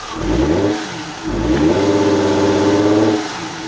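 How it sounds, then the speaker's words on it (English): A car engine with a clogged catalytic converter revs up loudly twice, the pitch rising and holding, then dropping back, close and steady. "when I rev it like this"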